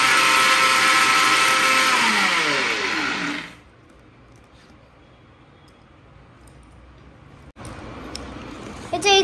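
A mixer grinder whirs loudly while grinding dried amla with reetha and shikakai, its motor pitch dropping as it spins down and stops, followed by quiet handling and a brief restart toward the end.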